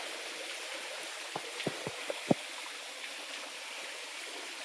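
A forest stream runs with a soft, steady trickling wash near a hidden waterfall, fairly faint, with a few sharp knocks or clicks briefly standing out in the middle.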